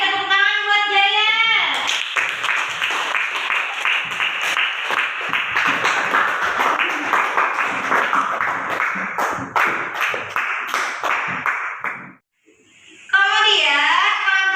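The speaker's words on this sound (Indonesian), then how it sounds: "tepuk tangan buat Jaya" Classroom of children clapping for a student after a group presentation, quick sharp hand claps in an uneven rhythm with children's voices over them, then a brief pause before a voice speaks alone.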